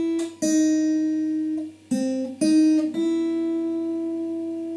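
Guitar picking the first phrase of the interlude of a song, a few sustained plucked single notes including an open first string, close and clean with no voice.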